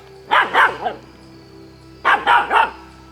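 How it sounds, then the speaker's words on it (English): A dog barks in two short bursts of three sharp barks each, separated by a pause, fairly close and loud over low steady background hum. "She's barking"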